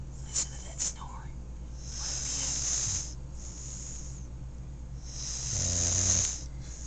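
Animal snoring at night in St. Augustine, heard as long breathy rasping snores that come and go in slow cycles, fairly close and loud, with soft sounds of people nearby.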